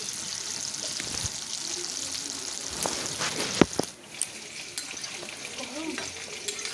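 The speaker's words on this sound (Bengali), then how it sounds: "ভালো করে নাড়াচাড়া করে ব্রাউন করে আমি ভেজে নিচ্ছি এটাকে" Pieces of dhoka lentil cake frying in hot oil in a wok, a steady close sizzle and crackle with scraping stirs and a few sharper clinks of the spatula against the pan.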